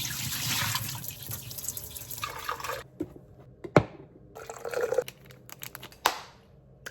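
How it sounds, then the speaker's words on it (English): Water runs from a tap to rinse out a cup, a steady splashing stream at first that breaks off into a few separate pours, knocks and drips. No one speaks. "I forgot to wash my cup out."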